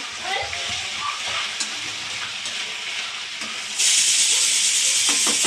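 Potatoes frying in a pan on a home stove, a continuous loud hiss and sizzle that jumps abruptly louder partway through, with brief faint clinks over it.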